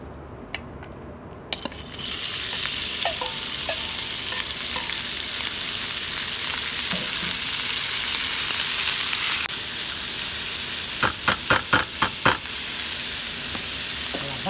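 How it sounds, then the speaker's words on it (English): Bacon frying in a pan with a drop of olive oil, a steady loud sizzle that swells after a quieter start and runs throughout, with a quick burst of clicks near the end and no talking. "Bacon is cooking."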